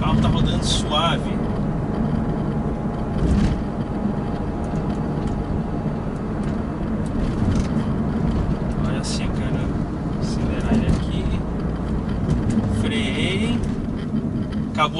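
A 2008 Volkswagen New Beetle with a 2.0 8-valve engine rolls smoothly along a road after brake work, giving a steady low drone of engine and road noise from inside the cabin while someone talks over it.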